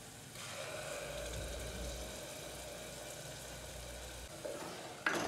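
Paste of tomato, green chilli and ginger is stirred in a pan, making a soft continuous sizzle with faint scraping, quiet and steady, ending with a brief louder clatter.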